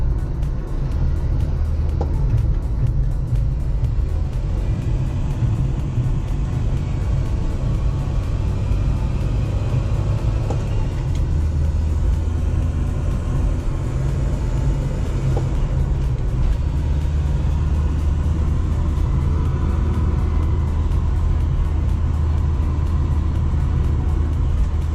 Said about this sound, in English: we're going to take it for a little test drive